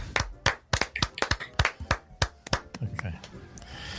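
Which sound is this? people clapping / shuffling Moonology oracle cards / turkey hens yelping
people clapping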